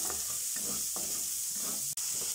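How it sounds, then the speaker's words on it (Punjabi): Onion for a broccoli and potato curry sizzles in a hot pan, a steady soft frying hiss broken by a few scraping stirs and one sharp tap, close and moderately quiet with no speech. "ਪਿਆਜ਼ ਜਿਹੜਾ ਆਪਾਂ ਪਾ ਕੇ ਭੁੰਨ ਲੈਣਾ ਹੁਣ ਇਹਦੇ ਵਿੱਚ"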